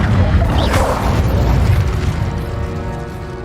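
Incendio fire spell cast in the video game Hogwarts Legacy: a loud, booming burst of flame that flares up at once and then trails off into a rumbling, fading roar, with no voices.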